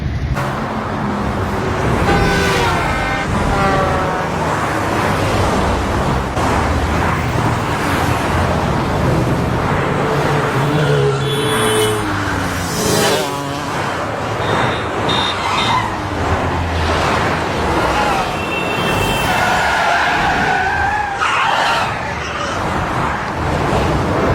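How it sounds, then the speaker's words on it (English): Busy street traffic around a square in Egypt, with cars passing steadily and a dense wash of engine and road noise, plus scattered horn-like tones and faint voices in the background. "Let me show you the traffic."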